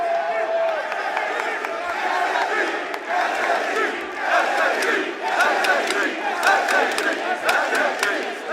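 A large esports crowd at the Rainbow Six Atlanta Major finals roars and cheers continuously, loud and dense, with scattered shouts rising out of the noise.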